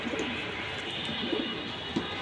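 Domestic pigeons coo close by in a pigeon collection, making low, soft, throaty coos that repeat in short bursts over a steady background hum.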